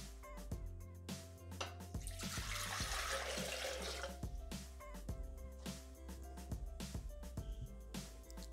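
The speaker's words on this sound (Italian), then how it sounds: "Iniziamo la ricetta mettendo all'interno del boccale l'acqua." Water pouring into a Thermomix (Bimby) TM mixing bowl, a steady splashing stream building and then trailing off amid intermittent clinks and kitchen handling noises.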